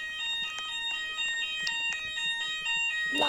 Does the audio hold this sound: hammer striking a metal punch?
no